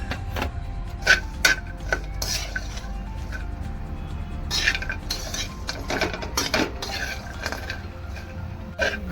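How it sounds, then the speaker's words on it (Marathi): Dry dates roasting in a pan, meant for dinkache ladoo, give off a quiet clatter of scrapes and clinks as a spatula stirs them, with a low steady hum underneath. "खारीक परतून झाली"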